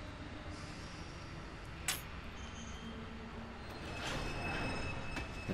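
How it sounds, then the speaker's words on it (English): A train in the video game Kingdom Hearts II rumbles faintly and steadily in the background. A brief squeal rises partway through, with no speech over it. "It's the imaginary train."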